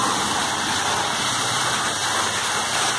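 Water pours down from a stone pillar at the 17th-century Panchakki water mill in Aurangabad, a steady loud rushing splash filling the space without pause, no speech over it.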